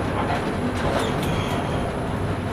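Inside a Chennai Ahmedabad Express train halted on the Prakasam Barrage in Vijayawada, a steady low rumble and hum fill the carriage, with faint clicks overhead.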